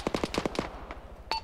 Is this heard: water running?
no